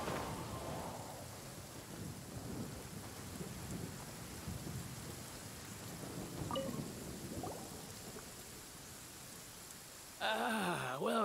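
A heavy rain downpour in Genshin Impact, a constant dense hiss with low rumbling like distant thunder underneath, steady and fairly quiet, ending with a brief burst of game music.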